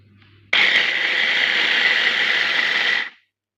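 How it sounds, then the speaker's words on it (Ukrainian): A kitchen blender whirs loudly while blending prunes and coconut flakes for a tiramisu, starting abruptly and holding a steady high-pitched grinding drone for about two and a half seconds before spinning down and stopping. "І я це буду збивати разом ще з кокосовою стружкою у блендері."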